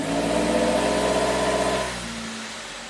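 A 2008 Suzuki SX4 engine with a low-power fault revs steadily and loudly for about two seconds, as if hitting a wall, then the note drops away to a quieter idle.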